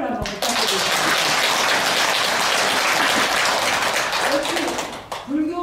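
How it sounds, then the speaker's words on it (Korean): Loud, dense applause from a congregation at a Buddhist Dharma service, bursting in after a brief word, holding steady for about five seconds and then tapering as a voice resumes. "우리 지금 말씀하신 분께 큰 박수를 한번 부탁드리겠습니다."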